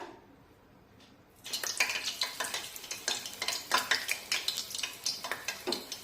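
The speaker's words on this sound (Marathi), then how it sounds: "हा वडा तेलामध्ये अलगत सोडायचा" Rava vada slipped into hot oil: quiet at first, then a sudden loud bubbling sizzle that carries on with rhythmic pulsing crackles, close by and without speech.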